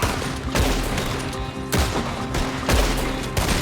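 Gunfire in Red Dead Redemption 2 during a street shootout: heavy, loud shots in a rough, uneven rhythm with some ringing echoes, several reports close together, and no talk over them.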